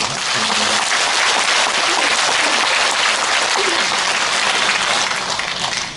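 Audience at an anniversary talk concert applauding, dense steady clapping that fills the whole stretch at a constant level and only eases slightly at the very end.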